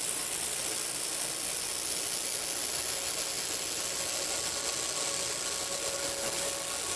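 Laser welder running on stainless steel at 50,000 Hz pulse frequency with wobble, giving a steady, even broadband hiss with faint high tonal whine that holds unchanged throughout, no voices.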